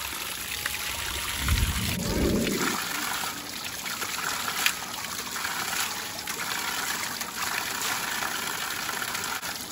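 Natural spring water trickles steadily from the roots of oak trees in a mountain setting, a continuous soft running stream with a brief louder gush near the start and no talk.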